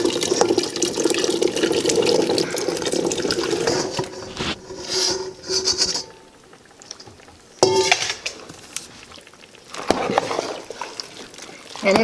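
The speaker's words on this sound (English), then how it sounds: "So the next thing is to stir in the berries." Wet, sloshing sounds of berries being stirred into a thick razzleberry pie filling made for canning. The stirring comes in close, steady stretches with a couple of brief pauses.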